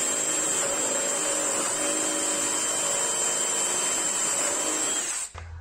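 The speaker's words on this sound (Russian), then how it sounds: "Нижнее отверстие расширяю сверлом до 20 мм." A power drill whines steadily at high speed for several seconds while widening a hole in plastic to 20 mm, then winds down abruptly at the end.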